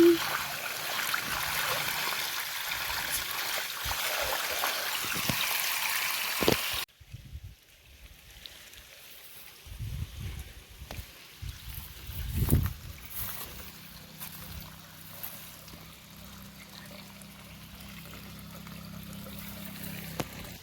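Pressurised water gushes from a pipe in an areca nut plantation, a loud steady hiss at first that drops to a softer trickle and splashing, with occasional knocks and handling sounds.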